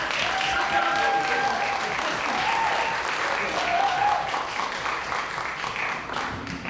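Steady applause from an audience at a women's slam poetry competition at the Centre Nelson Mandela, with a voice and some whistles rising over the clapping throughout.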